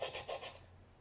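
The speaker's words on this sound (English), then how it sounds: "I'm just going to keep sanding and then come back when all the edges are sanded." A sanding block rasps along the edge of a styrene sheet in a few quick, scratchy back-and-forth strokes, close and fairly quiet, with no talking.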